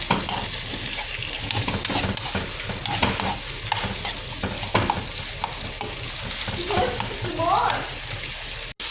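Tomatoes sautéing in a pan while being stirred, a steady close sizzle with scraping and stirring sounds running throughout and a brief dropout near the end.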